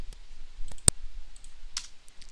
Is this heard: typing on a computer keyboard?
yes